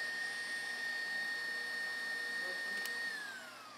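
Electric mixer whisking egg whites for icing, a steady high motor whine held for several seconds, then winding down in pitch as it switches off near the end.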